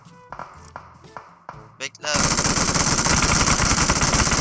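Gunfire in PUBG Mobile: a few sharp separate shots and pings at first, then from about two seconds a loud, dense, continuous burst of rapid automatic fire that fills the rest of the clip.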